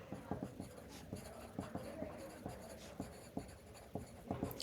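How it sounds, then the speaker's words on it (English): Color pencil shading across paper in short repeated strokes, a soft scratchy rhythm of quick taps and drags, close and quiet with no talking. "you add value, which is like shading, with color pencil"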